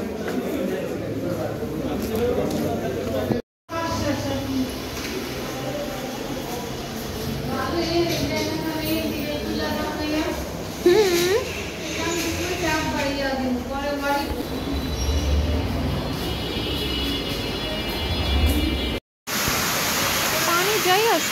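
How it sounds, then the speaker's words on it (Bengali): Rainwater rushes and flows away outdoors during rain, a continuous loud hissing wash heard under ongoing talk from people nearby. "পানি যাই সব বইরা যাইতেছে।"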